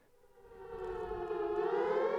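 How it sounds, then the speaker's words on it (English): An air raid siren sound effect winds upward, its wailing tone rising in pitch and swelling from faint to louder over about two seconds, heard alone. "you should just leave the air raid siren on all the time then"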